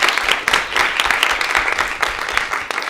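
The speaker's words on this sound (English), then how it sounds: "let's give them a round of applause" An audience at a community college gubernatorial candidates forum claps in steady, dense applause for about three seconds.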